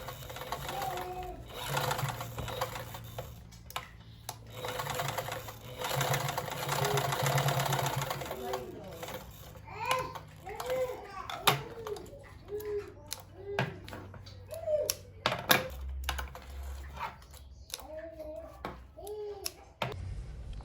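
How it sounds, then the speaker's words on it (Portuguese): A sewing machine stitches the finishing seams on a handmade girls' flat shoe, sewing in short bursts of rapid rhythmic whirring separated by pauses and slow careful stretches at the curves, with soft talk in the background. "Agora eu vou começar a fazer as costurinhas de acabamento."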